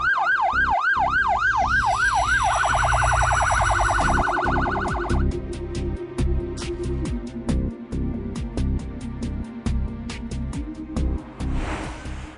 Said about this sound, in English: Loud sirens and flashing blue lights warn other road users of an approaching emergency vehicle